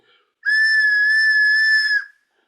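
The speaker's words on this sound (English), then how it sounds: "made them all whistles this year" A hand-turned wooden whistle gives one clear, steady, piercing tone lasting about a second and a half, loud and close, with a tiny breathy puff just before it.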